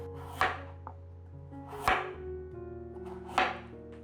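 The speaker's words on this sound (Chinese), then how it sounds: "把红萝卜切片" A knife slices through a peeled carrot on a cutting board, three crisp chops spaced about a second and a half apart, close and clear over a steady low background hum.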